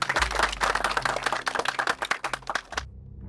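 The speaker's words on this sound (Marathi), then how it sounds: "टाळ्या" A crowd claps in a brisk, steady burst of applause for about three seconds, then stops abruptly.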